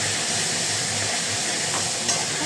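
Onion and chopped tomato are stirred with soybean in a hot pan, giving a dense, loud, steady sizzle with faint scraping. A brief clink comes near the end.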